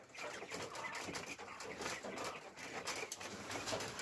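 Quails crowded in a coop give soft cooing and chirping calls over a busy, rustling background, fairly faint and continuous, with no clear speech.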